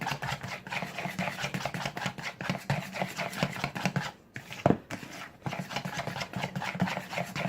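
A fork beats pancake batter in a bowl, producing a fast, rhythmic clicking and scraping that runs steadily through the whole stretch, with no voices.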